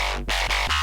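Short synthesizer chomp patch, layered with trombone in the track, with a buzzy, bright FM tone, chopped into quick rhythmic chomping pulses, heard alone.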